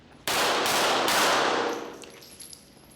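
A Hi-Point YC-380 pistol fires a single loud, sharp report whose bright ringing echo decays over about a second.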